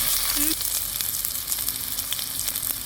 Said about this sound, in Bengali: তো পেঁয়াজ কুচিটাকে আমি লাল করে ভেজে নেব